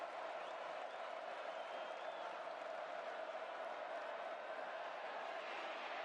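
A college football stadium crowd roaring at a Big 12 game between Kansas State and Oklahoma State, a steady, distant wall of cheering that holds at an even level throughout with no break.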